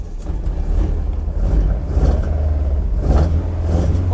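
A Vauxhall Corsa B with a C20XE engine running on carburettors is driven slowly in first gear around a square, giving a steady, loud, deep engine drone with surges of revving, no talking.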